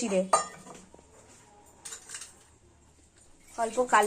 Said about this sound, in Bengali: এবার এটাকে মিশিয়ে নেব।